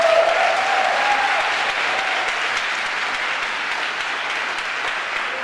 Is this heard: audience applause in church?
yes